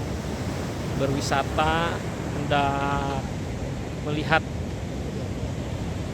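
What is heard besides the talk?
ocean waves at Citanggelek Beach, South Garut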